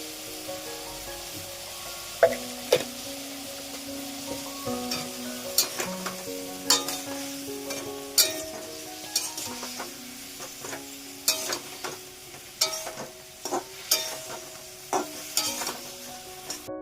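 Flat beans being sautéed in a pan with a little sugar, a soft continuous sizzle broken by repeated scraping stirs of a spatula against the pan, close and fairly quiet with no voices.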